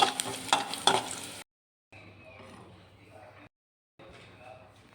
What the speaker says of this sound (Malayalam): ഗോൾഡൻ കളറെല്ലാം ആകുമ്പോൾ നമുക്ക് ഇതിനകത്തോട്ട് വറുത്ത് ഒഴിക്കാം